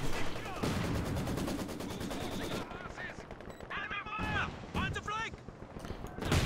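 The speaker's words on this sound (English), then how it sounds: "This barrage going in." An artillery barrage lands in a Company of Heroes 2 match, with rapid machine-gun fire and loud blasts rattling close, then sparser booms mixed with game voice chatter.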